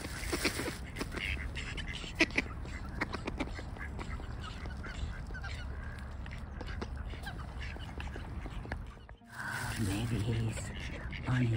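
Ducks waiting for bird feeding at the water quack and honk repeatedly, close by, with a person talking over them throughout.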